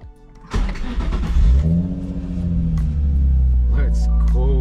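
A Nissan 350Z, jacked up, cranks and fires into a throaty idle, then the revs swell and settle into a steady engine drone, loud and close.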